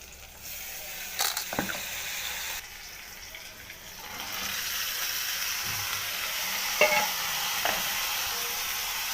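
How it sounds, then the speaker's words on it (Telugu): Turmeric and ivy gourd go into a frying pan after ginger-garlic paste for an ivy gourd curry, with a few clattering drops and stirs, then a steady loud sizzle that swells and persists. "ఇప్పుడు మనం పసుపు వేసుకుందాము. ఆ తర్వాత దొండకాయ కూడా వేసేసుకుందాము."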